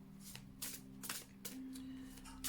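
Tarot cards being shuffled and drawn for a reading, quiet papery riffles and slaps in several short bursts over a faint steady hum, with no talk.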